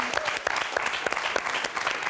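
A television quiz show audience claps steadily and briskly throughout, a dense patter of many hands at close range.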